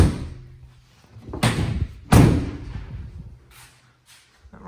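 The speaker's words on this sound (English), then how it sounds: "Close up those doors for you now." Rear doors of a 2015 Ford Transit Custom van are swung shut, giving two solid slams about a second apart, each followed by a short rattle, close by, with a few faint taps afterward.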